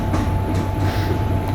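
Steady rumble of a train running in an Indian train simulator game on the Ahmedabad to Vadodara route, continuous and loud with a constant hum and faint rhythmic rail clatter.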